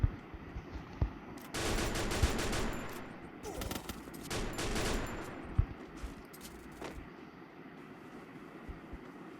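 Rapid gunfire from a shooting video game, with bursts of shots scoring headshots, dense crackling volleys around the middle of the stretch and scattered single shots later, fairly quiet overall.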